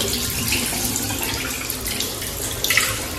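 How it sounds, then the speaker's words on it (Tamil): A sensor-activated tap in an airport restroom runs steadily into a sink, a close continuous splashing gush with small fluctuations and no voices. "சும்மா கை வச்சா போதும் தண்ணி வந்துடும்"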